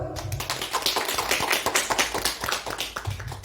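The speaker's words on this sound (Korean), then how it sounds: "하나님께 영광의 박수." A church congregation claps during a Sunday worship service, a lively burst of individual hand claps close by with an uneven rhythm, moderately loud and without speech.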